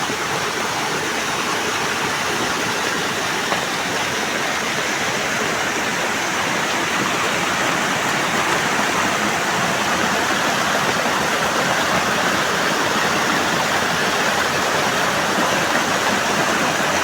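Rain-swollen stream rushing through a village during the monsoon, a loud, constant broadband roar of churning water close by, steady throughout with no voices.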